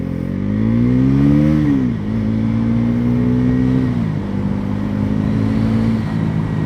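Bajaj Pulsar NS400Z motorcycle accelerating in road mode: a loud, close engine drone climbs in pitch, dips at each gear change, then pulls up again in a steady run.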